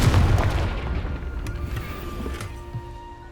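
A Confringo blast spell in Hogwarts Legacy goes off as a loud booming burst at the start, fading into a rumbling tail with lingering chimes and game ambience, no voices.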